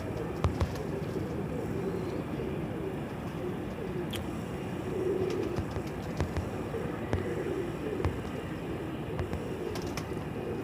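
Golden pigeons cooing softly and steadily at the Multan pigeon market, a low continuous murmur of several birds with faint background bustle and occasional sharp knocks.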